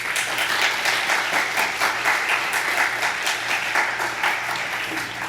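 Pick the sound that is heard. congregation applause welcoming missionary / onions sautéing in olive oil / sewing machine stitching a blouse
congregation applause welcoming missionary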